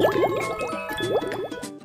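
Water runs into a bathtub in a children's cartoon, a steady gurgling rush with bubbly, sloshing undertones, close and continuous, with no voices.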